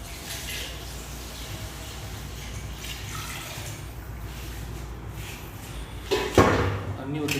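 Water pours steadily into a pot of chicken biryani with a continuous splashy rush, ending in a brief louder clatter near the end.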